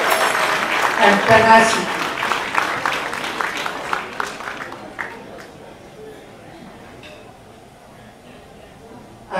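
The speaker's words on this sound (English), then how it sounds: "Please give her a hand of applause for her perseverance, tolerance," Applause from the audience at a launch celebration, a dense patter of claps for the first few seconds that thins into scattered claps and fades away.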